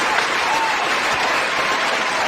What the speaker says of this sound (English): Oh, we got to do the applause.